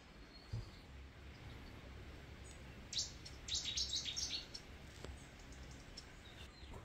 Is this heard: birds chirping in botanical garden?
yes